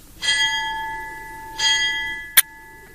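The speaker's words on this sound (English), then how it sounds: "The bell invites me." A single bell tolls twice with long ringing decay, then a brief sharp metallic strike, clear and close with no speech, within an audio drama of Shakespeare's Macbeth.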